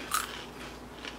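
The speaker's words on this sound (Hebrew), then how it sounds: "יש לו קרנץ'" Bissli, a crunchy cheese-flavoured snack, is bitten with one sharp crisp crunch near the start, followed by a few quieter chewing crackles and another faint crunch near the end, close up and without talk.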